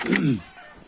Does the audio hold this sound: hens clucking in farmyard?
yes